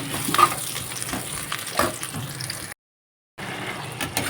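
Curry sautéing in a pan with ginger, garlic and spices gives a soft, steady sizzle with intermittent stirring scrapes close by, briefly cut to silence before the frying noise resumes.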